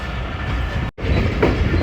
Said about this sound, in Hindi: फ़िलहाल लाला मूसा स्टेशन छोड़ने का खूबसूरत मंज़र देख लें।